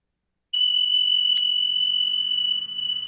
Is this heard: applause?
no